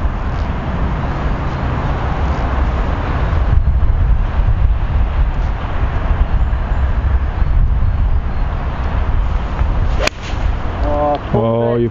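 Strong wind buffeting across an open golf course, a loud continuous rumble and roar with gusty swells, briefly interrupted by a sharp knock before the blowing continues.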